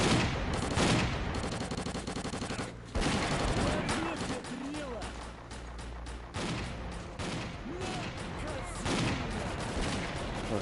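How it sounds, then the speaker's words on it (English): Automatic gunfire in the video game Stalker Clear Sky, loud sustained bursts with heavy booms and grenade blasts, busy and dense throughout, while someone talks over the shooting. "a lot more automatic fires going on again now"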